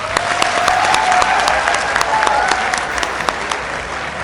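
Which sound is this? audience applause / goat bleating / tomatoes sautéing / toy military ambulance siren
audience applause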